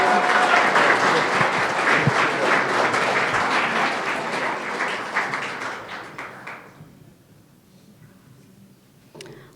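A large audience at a humorous speech competition awards evening applauds the international president, with loud, dense clapping that holds for several seconds, then thins and fades away, leaving a few scattered claps and a late tap.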